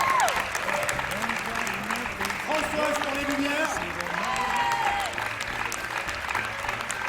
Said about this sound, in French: Je pense que vous pouvez aussi applaudir Fabien